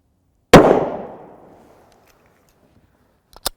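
A single loud, sharp 9mm pistol shot from an Arrange Delta Gen 2 long slide with a 4.5-inch barrel, ringing out and decaying over about a second outdoors, followed by a faint metallic clink.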